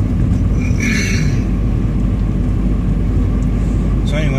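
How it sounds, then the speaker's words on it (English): A smart car's engine drones steadily from inside the cabin while driving, a loud continuous low rumble with road noise and no clear break for a gear change. "I can hear the car's already in fifth gear, and it shifted all for us"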